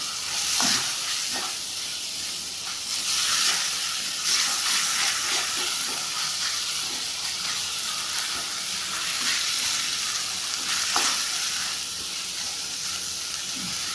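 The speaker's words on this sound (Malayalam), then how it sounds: "ഇതിൻ്റെ കൂടെ നമ്മൾ കുടമുളക് ഇട്ട് കൊടുക്കാം." Capsicum sautés in a hot pan for pulao, giving a continuous bright sizzle and hiss with occasional stirring clinks and scrapes, close and steady.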